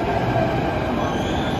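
A Delhi metro train rumbles steadily through Vaishali metro station, loud and close, with a continuous broadband roar of wheels on rail that cuts off abruptly at the end.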